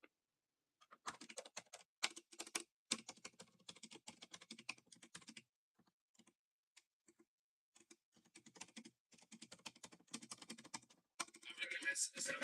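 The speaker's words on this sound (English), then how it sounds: "I think you guys can actually hear me typing now" Typing on a computer keyboard, quick uneven bursts of soft close key clicks broken by short pauses, quiet and mostly alone with a little background noise.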